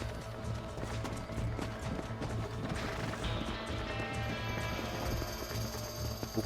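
Steady, quick clip-clop of a horse's hooves galloping in Red Dead Redemption, layered over ongoing game music and ambience.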